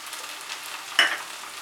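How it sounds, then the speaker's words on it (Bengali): Chopped ginger, garlic and tomato frying in a pan over medium heat, a soft steady sizzle with one sharp clink or scrape of a spoon near the end, close and brief. "আদা রসুন কুচিটা দেওয়ার পরে আমি আরো 2 মিনিট এটাকে মাঝারি আঁচে ফ্রাই করব"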